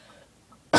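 A single sharp cough bursts out loudly at the end, after near silence.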